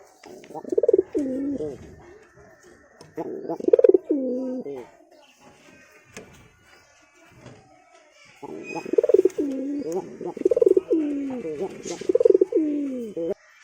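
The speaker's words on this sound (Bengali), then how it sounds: "এটা আমার আগেকার শিকারি পায়রা।" Hunting pigeons coo close by in repeated rolling, throaty phrases, two bursts early then a longer run later, with quiet gaps and faint background sounds between.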